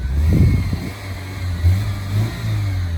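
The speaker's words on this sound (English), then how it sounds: "A Mercedes petrol engine." Mercedes petrol engine on a pillarless classic car, running with a low steady hum and giving a couple of short revs close by.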